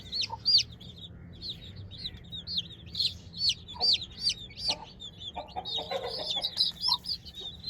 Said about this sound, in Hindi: तो मुर्गी भी गुस्सा हो रही है